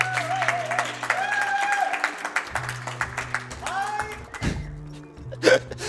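Applause breaks out among a small group during a charity speedrun stream of Donut County, short claps scattered under a man's speech and a higher voice, with a louder burst near the end.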